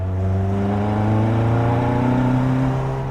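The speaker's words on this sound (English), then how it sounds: "when you start to build up the revs and it just takes off" A Caterham CSR sports car engine revs up, its loud droning tone climbing steadily in pitch as it accelerates, close and continuous.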